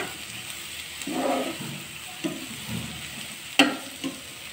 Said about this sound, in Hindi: प्याज फ्राई होना स्टार्ट हो गई है।